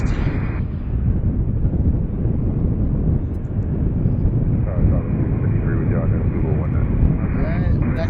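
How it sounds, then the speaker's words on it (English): Jet blast from a departing Boeing 737-800 airliner at Washington's DCA airport, a loud, continuous low roar that stays steady and close for the whole stretch, with talk faintly beneath it. "Good stiff jet blast."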